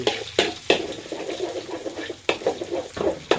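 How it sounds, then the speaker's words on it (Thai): Eggs are stir-fried in a pan for a jackfruit-and-egg dish, with a steady sizzle under rhythmic scraping strokes of a spatula and a few sharper clacks against the pan, heard close and alone. "เราจะผัดไข่ให้สุกก่อนนะคะ"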